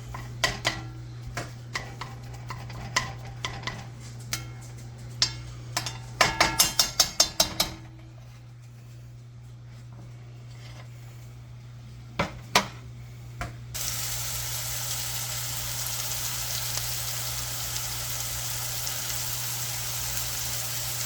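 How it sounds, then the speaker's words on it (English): Sausage is chopped and browned in a pan for biscuits and gravy. Irregular spatula taps and clacks come in bursts, then give way to a steady, even sizzle. "We're just going to chop up that sausage in there. We're going to get it all nice and brown."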